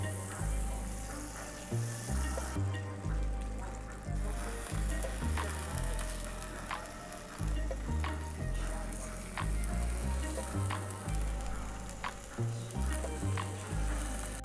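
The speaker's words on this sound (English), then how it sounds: "And the meat is getting cooked really, really quick." Marbled beef sizzles with butter on a hot lava stone, a loud continuous frying hiss close up over a pulsing low beat of background music.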